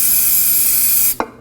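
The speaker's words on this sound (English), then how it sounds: "Using some brake parts cleaner, we're gonna go ahead and spray it." Brake parts cleaner sprayed onto a part of a 2016-2020 Kia Sorento 2.4L during a transfer case shift motor replacement: a loud, steady aerosol hiss held for about a second, then cut off with a short clunk.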